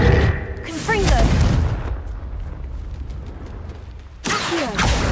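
Confringo blast spell in the Hogwarts Legacy video game: a loud booming burst with crackling debris, then a rumbling tail and a second blast, heard alongside game effects and voices.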